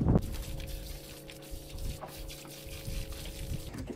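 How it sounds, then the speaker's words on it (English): Fresh water runs steadily from a hose or tap as a large dog is rinsed after swimming in salt water, a faint continuous splashing and trickling with no talk. "then do a freshwater rinse to keep the salt water from irritating his skin"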